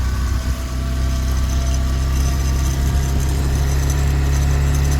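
A motorbike carrying four riders makes a steady, loud, low engine drone that holds constant throughout, with a deep rumble and a faint mechanical whine and no talk over it.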